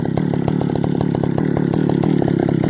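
An old Partner Farmer chainsaw runs loudly up close with a rapid, steady two-stroke putter, its engine pulsing evenly throughout with no voices.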